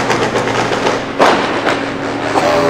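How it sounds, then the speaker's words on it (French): A sports car's exhaust backfires at a hairpin bend, sharp loud pops and bangs cracking over a constant roaring engine drone, heard close and without talk. "T'as vu les flammes qui pétaient à l'échappement?"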